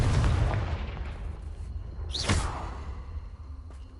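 A Confringo fire spell blasts in Hogwarts Legacy, a bright whooshing burst that rises and fades over a rumbling game soundscape, with a lingering tail afterward.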